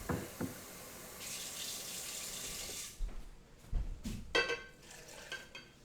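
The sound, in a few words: pouring water into blender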